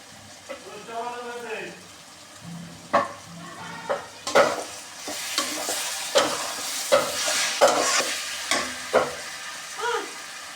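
Leftover spice paste from frying chicken, salted, sizzles in a pan for a homemade chicken chaap, a brief voice-like tone at the start, then bright, steady frying with repeated clattering stirs up close.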